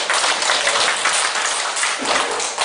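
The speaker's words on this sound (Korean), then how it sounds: "박수 한번 주실까요?" A church congregation applauds, a dense, even patter of many hands clapping for a few seconds, steady and fairly loud with no talk.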